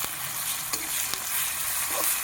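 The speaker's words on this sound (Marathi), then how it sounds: "इथे कांदा छान तळून झाल्यानंतर आपण हळद व जी काही लसूण मिरचीची पेस्ट बनवलेली आहे ती यामध्ये टाकून घेणार आहे" Onion frying in a pan as turmeric and garlic-chili paste go in, a steady close sizzle with a few soft stirring clicks and scrapes, no voices.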